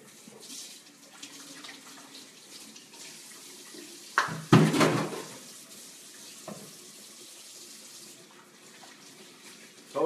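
A kitchen tap runs as hands are washed after handling raw shrimp, a brief close burst of splashing water in the middle amid a quiet room tone.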